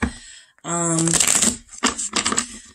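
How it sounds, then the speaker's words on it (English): Tarot cards being flipped and shuffled by hand for a reversal spread, giving a run of quick riffling bursts; a voice talks across part of it. "I'm just going to take some and flip them and shuffle"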